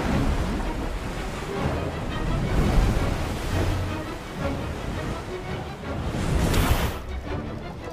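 Floodwater surges in through opened floodgates, a loud, continuous broadband rush and roar with swelling, wave-like peaks, like heavy surf, filling the whole clip without speech.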